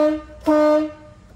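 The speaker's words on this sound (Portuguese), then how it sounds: "Ó, vamos ouvir a buzina" A Ford F1000 Turbo 4x4 pickup's horn gives two short honks, the second slightly longer, loud and close with a bright, tonal blare.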